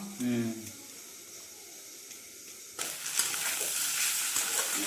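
Mixed vegetable bhaji of radish, small eggplant and potato frying in a pan: quiet background hiss at first under a brief voice, then a louder sizzle with stirring scrapes for the last couple of seconds.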